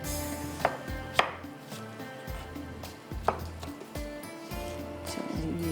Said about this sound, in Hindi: चलिए इसको हम इस तरह से बारीक कटिंग कर लेते हैं